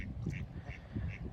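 Ducks by the water, eating minnows alongside a family of ostriches, give a few short nasal quacks, roughly three or four spaced calls, close and fairly quiet.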